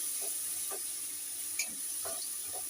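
Onion paste sizzling in hot oil, a steady bright hiss close by with a few soft scraping touches and one small clink, no one speaking.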